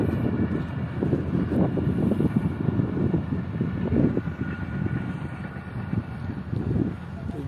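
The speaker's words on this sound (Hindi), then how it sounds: "निकल गई 151 अब शाह लतीफ एक्सप्रेस।" Shah Latif Express train passing in the open a short way from a railway bridge, heard as a steady, loud, broad rumble and roar mixed with gusty wind noise on the microphone throughout.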